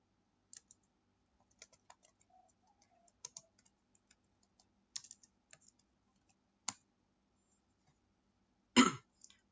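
Sparse keystrokes on a computer keyboard as a command is entered, a few soft scattered clicks with one louder tap near the end, close and quiet with no talking.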